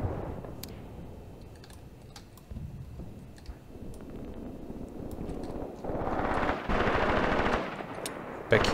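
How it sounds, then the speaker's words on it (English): Machine gun fire in the WWII tactics game Graviteam Tactics comes as scattered short bursts of rapid clicking shots at a moderate distance, building into denser rattling fire toward the end. "Back here we are shooting at some Soviets."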